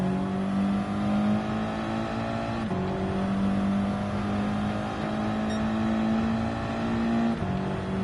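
An Audi TT race car engine in Gran Turismo 7 at Goodwood, droning loudly at steady high revs with brief dips at gear changes, continuous and close with no talking.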